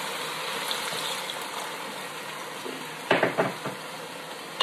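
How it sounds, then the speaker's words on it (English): Beef and vegetables sear in a pot for Thai beef noodle soup, giving a steady broadband sizzle. A wooden spoon stirs and scrapes through the food, with a burst of clattering around the middle before the frying hiss settles again. "we sear our meat"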